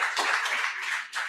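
A small group claps together for about a second, a dense patter that pauses briefly and then picks up again, with no voices.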